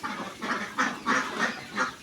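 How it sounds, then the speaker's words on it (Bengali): A flock of Khaki Campbell laying ducks quacks in a series of about five loud, close calls spaced roughly a third of a second apart, with no talking. "দেখতেছেন এইগুলি কিন্তু আপনার কাকি ক্যাম্বেল হাঁস।"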